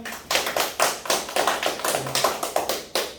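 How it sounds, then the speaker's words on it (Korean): Rhythmic clapping from an audience at a lecture, a dozen or so sharp, evenly spaced claps in a steady beat, fairly close and loud, with no talking. "박수 주세요"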